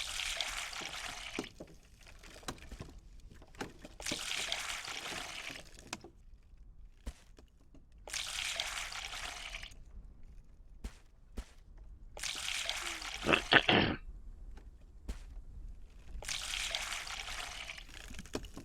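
Water is poured on garden plants in Reign of Kings, heard as several separate bursts of splashing pour, each lasting one to two seconds with quiet gaps between, plus a few soft clicks.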